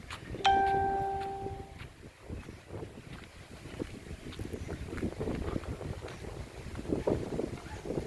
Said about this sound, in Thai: เสียงลมตึงๆ เสียงลมตึงๆแล้ว